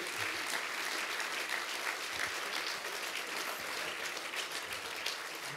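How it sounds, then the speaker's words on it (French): An audience at the SpringCampus launch event applauds the codir members, a dense, continuous wash of clapping that stays steady and moderately loud from start to finish. "On peut les applaudir, on les voit à l'écran."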